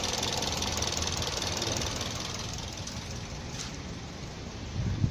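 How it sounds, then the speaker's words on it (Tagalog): A car engine idles steadily after starting, with a rough, knocking rumble, continuous and close throughout, with a small bump near the end; the car shows a check-engine fault. "Ngayon paparinig ko muna sa inyo yung makina. Ayan, naka-start siya guys."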